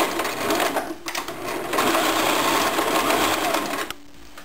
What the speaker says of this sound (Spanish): Una vez que lleguemos ahí, vamos a volver a coser en recto.